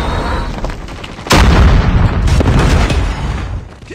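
A Predator missile strike in Call of Duty: Mobile, a sudden heavy boom after a second of scattered gunfire, followed by a rumbling low decay that fades over a few seconds.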